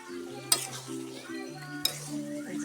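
Marinated goat meat and potatoes stirred together in a pan, with a soft sizzle under a steady hum and two sharp clinks of a utensil against the pan.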